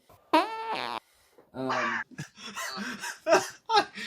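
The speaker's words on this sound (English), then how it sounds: "we just covered it with a fart noise and a boom caption" A series of exaggerated, wobbly fart noises, some long and some short bursts, loud and close with brief pauses between them.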